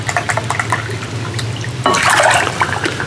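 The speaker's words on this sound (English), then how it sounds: "And then we're going to use a cup of water." Water pours from a cup while making peach sweet tea moonshine, a close, soft trickling splash that swells into a fuller pouring sound partway through, over a steady low background hum.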